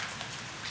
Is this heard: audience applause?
no